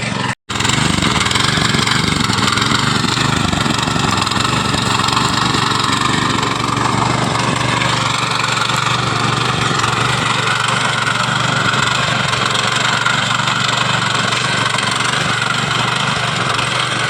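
A tractor engine working a hillside farm field, a loud, steady, droning rumble that runs continuously after a brief cutout at the start, with no voices.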